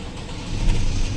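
Ford Raptor engine idling steadily with a low, even rumble, close and moderately loud, with no talking over it.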